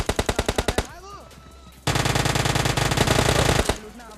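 Video game gunfire from an Uzi and a Vector, with a short rapid string of loud shots followed by a long sustained automatic burst, close and dominant, with a brief gap between them.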